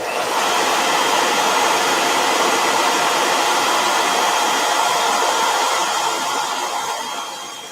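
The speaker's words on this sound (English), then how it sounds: "let me hit this with a blow dryer" A handheld blow dryer runs steadily at close range, a loud constant airy whoosh with a motor hum that holds for several seconds before easing off at the end.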